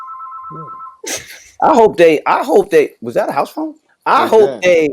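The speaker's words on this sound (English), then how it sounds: "was that a house phone?" House phone rings with a steady electronic trill at the start, then cuts off as people talk loudly over each other.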